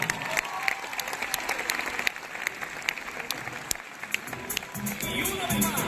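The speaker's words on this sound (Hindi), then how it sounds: "एक बार जोरदार ताली हमारे मेंटर के लिए" An audience claps loudly for two mentors called onto a stage at a network-marketing event. The crowd applause is dense and continuous throughout, and a voice is also heard talking over it.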